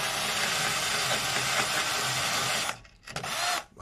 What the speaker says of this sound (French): je vais passer d'abord ma petite brosse, vu qu'elle est dessus, dans cette partie-là